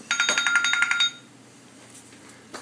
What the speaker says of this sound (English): I just can't answer all the phones that are ringing.